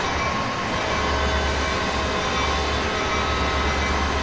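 A train runs in a train driving video game, giving a steady, loud rumble of wheels and engine with an even low hum throughout and no talking.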